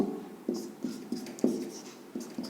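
Marker or chalk writing on a board during a physics lecture, a close run of short scratchy strokes and taps in an uneven rhythm, with no talking.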